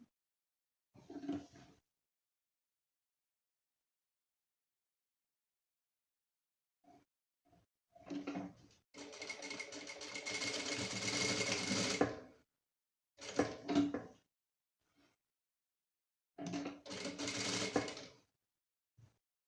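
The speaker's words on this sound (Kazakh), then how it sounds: "резинкамызды бірінші осылай қойып тігіп алам." A domestic sewing machine stitches elastic onto a stretch velour chair cover in several separate runs: a short burst, then a long steady whirring run, then two more bursts, with quiet pauses between and no talking.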